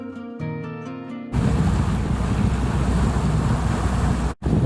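A sailboat motors under engine power through Desolation Sound toward Squirrel Cove, with a steady, loud broadband rumble and rush of wind and water that briefly drops out near the end, preceded by a few seconds of tonal notes.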